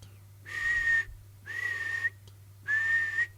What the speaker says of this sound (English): Oh, and he's got his whistle.